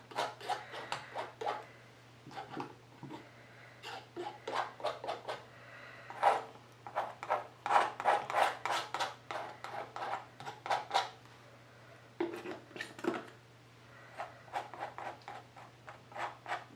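A palette knife spreads and smooths paint across a canvas for a cloud painting, making repeated close scraping and dabbing strokes in irregular bursts over a low steady hum.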